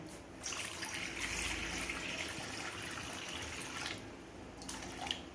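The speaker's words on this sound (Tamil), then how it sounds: "இந்த களிக்கு தேவையான தண்ணி வந்து நான் ஊற்றுறேன்." Water pours into a pan on the stove for making black palm jaggery urad kali, a steady gushing trickle that runs without pause and is close and clear, with a couple of light knocks near the end.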